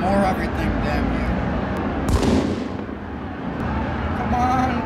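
Loud, dense video-game combat in the streets of Madrid: continuous gunfire with a big grenade-like blast near the middle, rumbling explosions throughout, and a voice shouting over the chaos.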